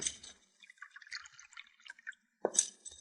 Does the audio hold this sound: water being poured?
yes